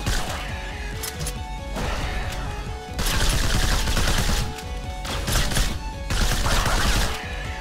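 An assault gun fires sustained automatic bursts in the retro-style shooter STRAFE, a rapid stream of loud shots in several stretches with short breaks, set against a steady tonal game soundtrack.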